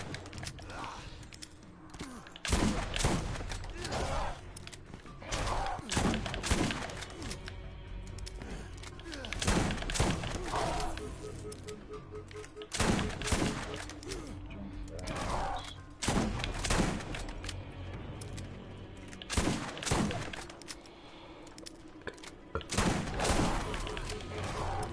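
Shotgun blasts in a video game aimed at a spider ant boom out repeatedly at uneven intervals across the stretch, loud, sharp thuds over a constant game background with occasional speech.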